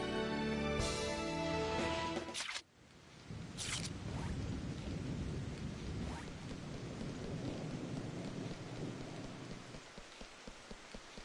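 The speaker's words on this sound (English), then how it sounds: "Thunder!" Thunder with heavy rain in the video game .Hack//G.U. Vol. 2 Reminisce: loud music cuts off into a sharp thunderclap, followed by steady pounding rain and rolling rumble that runs to the end.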